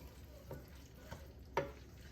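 Bok choy from a home garden is stirred in a pan, giving a faint, low sizzle with three soft scraping strokes spaced about half a second apart.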